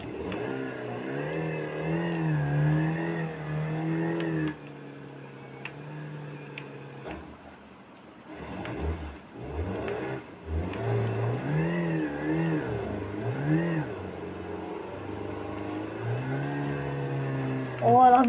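In the BeamNG.drive driving game, a Mitsubishi Pajero engine revs steadily up and down, with the pitch rising and falling through long stretches of throttle. Someone talks over it in Thai.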